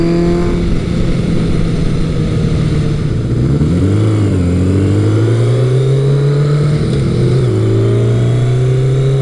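A Kawasaki ZL900 Eliminator drag-style motorcycle engine runs loud and close, its low steady drone rising and falling through a couple of revs before settling back.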